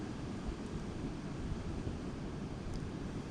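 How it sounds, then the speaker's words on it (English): Big ocean waves rushing onto the shore on a misty, drizzly night, a continuous loud roaring wash of surf with no voices. "That was just a rush of pretty big waves"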